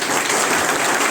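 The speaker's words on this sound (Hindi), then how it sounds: "अब देखिए आपकी कितना जोर से लोगों ने ताली बजाया है" A crowd at a CSC Diwas 2022 event gives loud, dense applause, a brief, steady burst of many hands clapping together.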